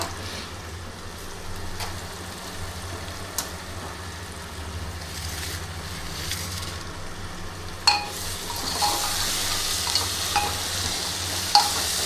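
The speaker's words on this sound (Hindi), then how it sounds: "ये प्याज मतलब लाल फ्राई हो गया है" Onions for a village-style jackfruit curry fry in a pan while being stirred, a steady sizzle with occasional scraping clicks and louder stirring bursts toward the end, with no talking.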